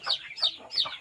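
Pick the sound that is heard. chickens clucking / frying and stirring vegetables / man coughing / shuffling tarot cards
chickens clucking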